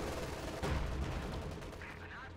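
Mortar half-track firing an incendiary barrage in Company of Heroes 2, distant thumps and explosions rumbling under a busy battle soundscape.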